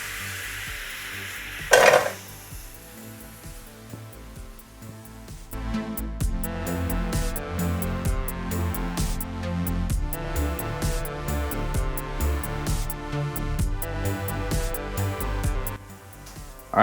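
Vegetables cook oil-free in broth in a pan, giving a soft simmering sizzle with repeated clinks and scrapes of a utensil against the pan, moderately close, after one sharp knock near the start.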